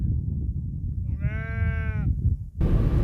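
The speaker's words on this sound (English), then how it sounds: "One sheep up there." A single sheep gives one long, wavering bleat from nearby on a farm beside a dusty gravel road in the Doornrivier area. A steady low rumble sits underneath, and an abrupt burst of noise follows the bleat.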